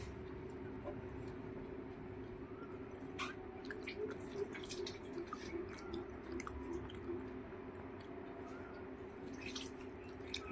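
Fish and rice being eaten in a Bengali home lunch, with soft close-up chewing and wet mouth sounds and small clinks and drips, continuous and quiet over a steady hum.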